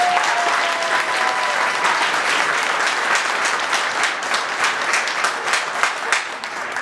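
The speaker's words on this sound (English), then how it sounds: "We can give them a round of applause." A large wedding audience applauds steadily for several seconds, dense clapping at an even loudness that thins slightly toward the end.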